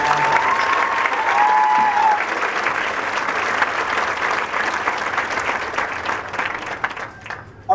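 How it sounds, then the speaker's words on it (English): A crowd at a high school marching band parent show applauds student color guard leaders with dense, steady clapping. A couple of brief whistles ring out early, and the clapping fades off near the end. "Please give them and all our student leaders a round of applause."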